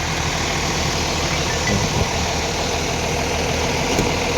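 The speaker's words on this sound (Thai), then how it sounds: "รถก็ เครื่องนิ่ม ดีครับเสียงเงียบนะครับ" A Nissan car engine, noted as a CK340 model, idles steadily and smoothly at a roadside garage lot, with a constant low hum and no speech.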